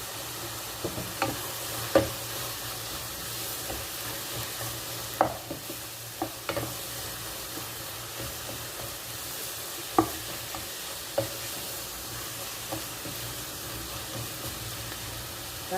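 Cumin seeds sizzling with okra in a hot pan, a steady frying hiss broken by scattered sharp pops and stirring clicks throughout, close and moderately loud with no talking.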